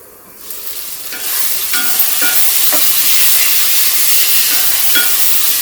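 Chana dal cooks with spices and tomato in a hot pan, hissing loudly after a quiet start while a spoon stirs with occasional clinks and scrapes.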